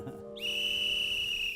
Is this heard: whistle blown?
yes